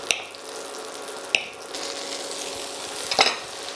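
Fish pan-frying in foaming butter for a classic French meunière, giving a steady close sizzle with a few sharp clinks and spatters throughout.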